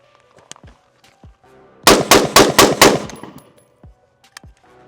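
Five sharp rifle shots from an AK47 or AR15 fired in quick succession, loud and close, with quieter scattered pops and faint background noise before and after.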